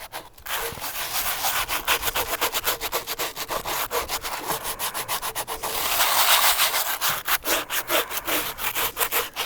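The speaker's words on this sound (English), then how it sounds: "So the salt kind of scrapes off the stuff and absorbs any of the oil that might be in here." Salt and foil scrubbing a cast iron skillet make a loud, close, gritty rasping in fast repeated back-and-forth strokes, continuous for several seconds and growing harsher midway, with no talking.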